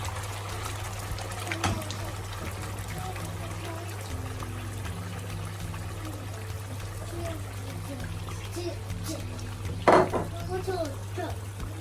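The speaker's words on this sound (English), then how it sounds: "Now I'm adding the stew." Thick stew pours and trickles steadily into a pot of couscous jollof for several seconds, with a low hum underneath and a brief louder splash near the end.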